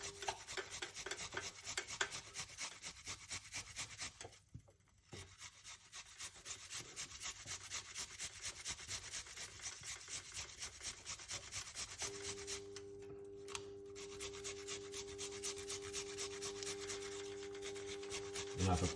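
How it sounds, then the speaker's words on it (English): A small piece of ginger rubbed against a grater in rapid, even back-and-forth rasping strokes, close and continuous, with one brief pause partway through. "It's gonna grate a little piece of ginger,"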